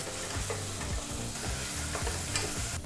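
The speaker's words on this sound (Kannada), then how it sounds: "ಈಗ ಈ ಎಲ್ಲ ಪದಾರ್ಥನೂ ಮೀಡಿಯಂ ಫ್ಲೇಮ್ನಲ್ಲೇ ಎರಡು ನಿಮಿಷಗಳ ಕಾಲ ಫ್ರೈ ಮಾಡ್ಕೋಬೇಕಾಗತ್ತೆ" Chopped onion and mint leaves frying in a pan on medium flame for pulao, a steady close sizzle broken by repeated scraping stirs of a spatula, with no talk.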